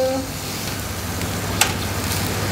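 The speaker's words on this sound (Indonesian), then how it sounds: "Lihat mendidih-mendidih gimana gitu ya." Honey-glazed grilled beef ribs sizzle and bubble steadily in a close, even crackling hiss, with a faint clink partway through and no talk.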